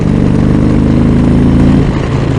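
An Indian Chieftain Elite motorcycle engine pulls hard in fourth gear near 3,000 rpm, a loud, close, continuous throbbing drone that eases slightly toward the end.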